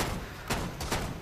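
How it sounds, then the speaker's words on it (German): Volley skill gunfire in the video game Guild Wars 2, heard as two or three quick broadband bursts under a steady game backdrop, moderately loud and close. "Das war die Salve."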